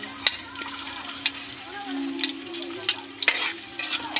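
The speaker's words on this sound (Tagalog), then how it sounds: "Ilalagay po natin ang bawang." Garlic frying in a hot pan as chicken neck is cooked, a steady crackling sizzle with scattered pops and clicks of stirring or utensil contact.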